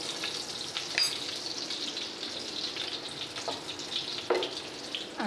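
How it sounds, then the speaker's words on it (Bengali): Bay leaves and dried red chillies fry in a pan while being stirred for dal shukto. A faint, steady crackling sizzle continues, with brief scraping accents from the stirring. "এটা একটু নাড়িয়ে নেব।"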